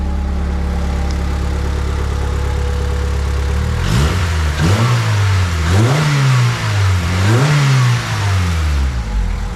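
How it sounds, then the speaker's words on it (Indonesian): A rebuilt Honda Civic Ferio D16 SOHC VTEC engine idles steadily, then is revved repeatedly from the engine bay, the pitch climbing and falling in several rising blips, loud and close with no talking. "Nah kita coba kita gas dari depan ya"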